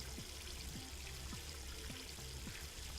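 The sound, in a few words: water running from a faucet into a sink, from a video game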